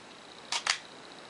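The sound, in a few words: Minolta XD film camera shutter firing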